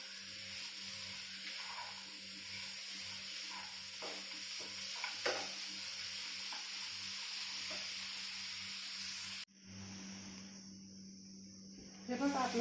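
Jaggery is stirred into a mango filling in a pan, giving a steady soft sizzle with occasional scraping taps of the spoon; the sound cuts out abruptly near the end.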